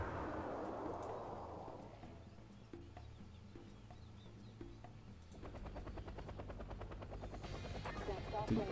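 A helicopter in the real-time strategy video game Act of Aggression whirs with a fluttering rotor drone, joined by bursts of gunfire and small clicks, fairly quiet under game effects.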